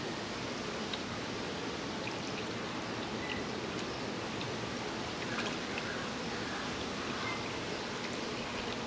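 Thick bee feed is poured into a feeder for a new hive, a soft, steady trickling wash that runs continuously at low volume without a break.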